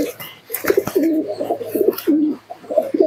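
Giribaz pigeons at a Murshidabad sale coo in repeated low, throaty bursts, close and clear, with a few soft wing or handling noises between calls.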